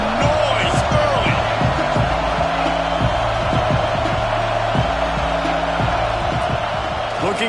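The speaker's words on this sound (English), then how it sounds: "This crowd bringing the energy and noise early." A stadium crowd at an American football video game keeps up a steady, loud roar with scattered thumps and bursts of noise, while a commentator talks over it.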